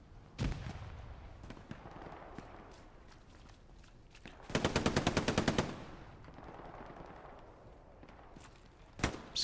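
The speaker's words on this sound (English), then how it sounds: "Skeeter with the MG." Machine gun fire in a WWII Battle of the Bulge video game at Elsenborn Ridge: one sharp, rapid burst of about a second stands out amid a few scattered single shots and low battlefield rumble, with no talking.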